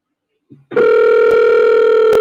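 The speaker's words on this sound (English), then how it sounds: "We're going to call up Dr. Short." A telephone call connects after a short click, then a loud, steady tone sounds close and continuous until the end, with brief clicks breaking in near the close.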